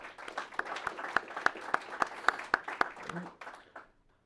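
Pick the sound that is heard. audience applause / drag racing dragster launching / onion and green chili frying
audience applause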